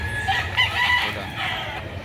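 A rooster crows loudly and close by, one drawn-out call with chickens and other fowl around it at a poultry sale in Lipa City, Batangas, in the Philippines, with steady background noise.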